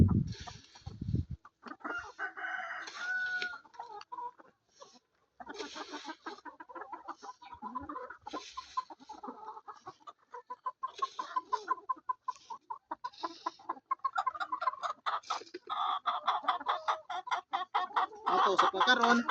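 Heritage chickens cluck and chatter busily at feeding time in a farm coop, with rapid, steady clucking that builds and grows denser toward the end, alongside a few louder squawks.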